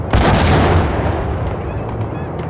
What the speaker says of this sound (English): You can see those shotgun shots just flying past